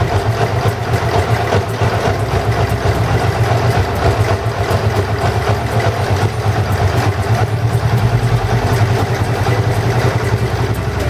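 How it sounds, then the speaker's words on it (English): A motorcycle engine idles steadily and loudly up close, running on both cylinders again after its fuel selector was switched to reserve, with an even, continuous throb and no talking. "You can clearly hear that the second cylinder has come back online by doing this."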